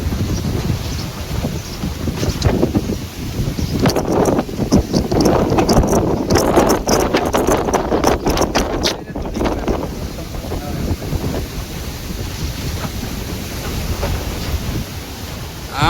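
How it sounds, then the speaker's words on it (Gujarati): Strong storm wind gusting loudly and steadily across an open farm, with rushing buffeting noise close to the microphone and a rougher burst in the middle. "આંબલિયું જોવો તમે, એકદમ આમ નીચે વરી જાય એટલો પવન છે."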